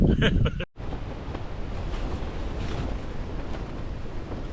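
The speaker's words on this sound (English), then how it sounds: "The wind's just woke me up. Seems to be flapping around a lot." Strong wind at a wild camp during a storm, buffeting and flapping steadily and loudly throughout as a broad rushing roar, after a brief clatter and a sudden dropout near the start.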